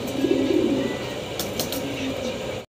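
Fancy pigeons in a breeder's loft coo in low, rolling calls near the start, over a steady background hum that thins out before a sudden cut to silence.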